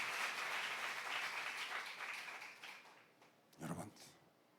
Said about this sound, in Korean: 박수 세게 치세요.